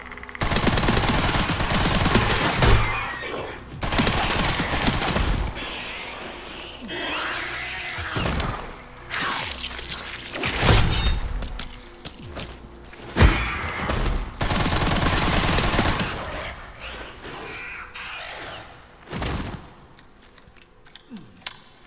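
Gunfire in the Resident Evil Requiem video game, with repeated loud, sharp shots bursting at irregular intervals amid mechanical clatter and game noise.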